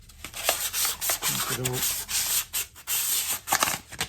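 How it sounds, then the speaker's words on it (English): A guitar template's edges are smoothed with 400-grit sandpaper by hand, giving close, rhythmic rasping strokes in quick repeated passes with a brief tonal squeak midway. "this is 400 sandpaper, just to sort of make the edges nice"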